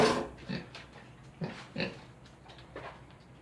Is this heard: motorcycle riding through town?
no